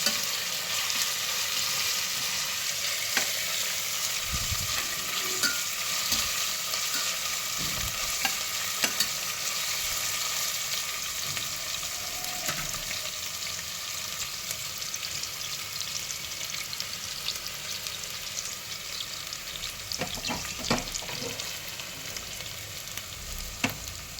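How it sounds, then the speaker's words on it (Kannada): Food frying in a pan until browned gives a steady broadband sizzle with occasional stirring scrapes and clinks, close and continuous with no talking. "ಇದು ಚೆನ್ನಾಗಿ ಕೆಂಪಾಗೋವರೆಗೂ ಫ್ರೈ ಮಾಡ್ಕೊಳ್ತೀನಿ"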